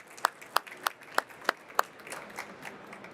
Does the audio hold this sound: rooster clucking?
no